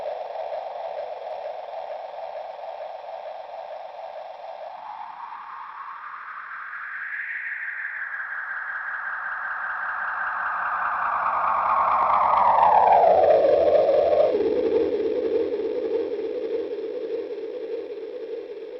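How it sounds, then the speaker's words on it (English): A sustained electronic tone run through a VVco Delayrean analog delay pedal sweeps up and back down in pitch, echoing and warbling, loud and alone. "a pretty simple analog delay, which has its analog problems, but it sounds great."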